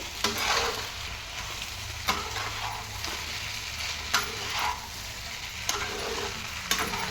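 Yellow potato curry stir-fried over a high flame, a constant close sizzle punctuated every second or two by spatula scrapes and taps on the pan, with no talking.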